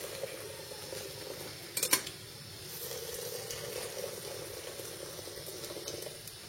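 Water poured into a teapot while brewing Berber tea on the Kik plateau in Morocco: a short metallic clink, then a steady, moderate pouring rush continuing to the end.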